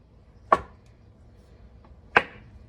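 Two sharp knife chops on a cutting board while dicing papaya into tiny pieces, spaced well over a second apart, close and crisp in a quiet room.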